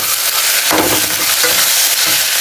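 Onion and tomato frying in hot oil, a steady loud sizzle with scraping stir strokes breaking through at intervals; no voices.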